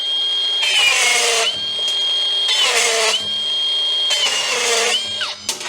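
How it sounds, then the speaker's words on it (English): Milwaukee rebar cutter working through 10mm rebar: a loud high motor whine in repeated bursts, each swelling and dropping in pitch under load, with short pauses between. "Now the Milwaukee rebar cutter on 10mm rebar."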